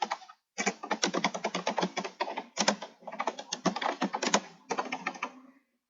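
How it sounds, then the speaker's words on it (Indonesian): A reply being typed on a computer keyboard: rapid, steady clatter of keystrokes in several close, continuous runs separated by brief pauses, with no voices over it. "Ketikkan apa yang mau diketik."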